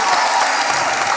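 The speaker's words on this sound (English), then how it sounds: "Come on and just clap and get it out of your system." An audience at a college convocation claps loudly and continuously in a dense, brief burst of applause.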